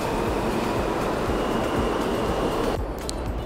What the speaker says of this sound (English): I am literally in the train after so many months.